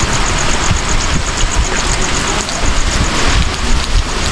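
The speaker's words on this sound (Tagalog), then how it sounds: "Ayan yung itsura ng bagyo dito sa Bicol." Steady broadband rush of wind and light rain from typhoon Pepito in Bicol at dawn, a dense continuous roar with faint gusty swells and no voices.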